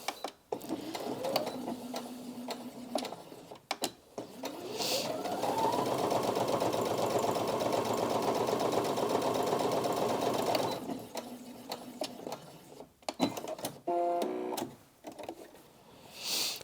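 A Brother Disney Innov-is M380D sewing and embroidery machine stitches through eight layers of fabric, a close, loud, steady mechanical whirr that runs for several seconds with brief starts and stops around it.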